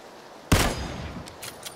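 A single sharp gunshot rings out in the PUBG Battlegrounds video game, loud and close, followed by a short decaying tail and faint distant shots.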